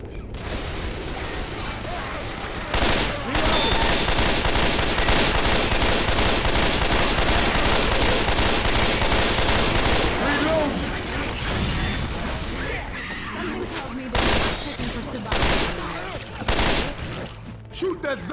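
Sustained loud automatic gunfire aimed at zombies in the video game Left 4 Dead 2, a dense rattling fusillade for several seconds, then scattered single shots and clanks.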